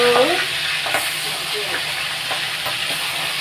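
Prawns fry in a kadai as they are stirred, a loud, hissing sizzle that holds steady throughout with scraping and clattering utensil sounds, and no voices.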